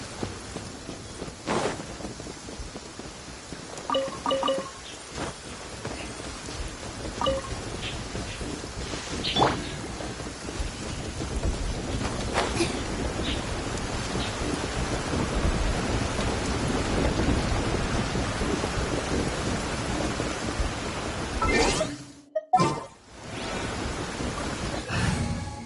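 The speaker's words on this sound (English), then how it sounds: "I love listening to the rain from the courtyard." Steady rain falls in a Genshin Impact courtyard, with rumbling thunder swelling and fading and a few sharp cracks late on, heard alone without talk.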